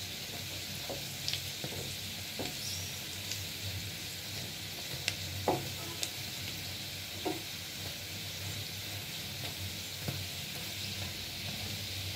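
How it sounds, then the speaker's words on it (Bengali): Winter vegetables fry in oil in a pan with a steady, close sizzle, broken now and then by soft clicks and scrapes of stirring. "সুন্দর করে ভেজে নিচ্ছি।"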